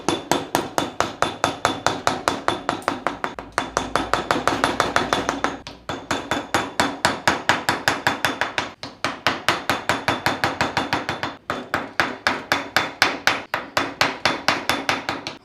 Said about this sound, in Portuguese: Agora é cortar nas quinas com o formão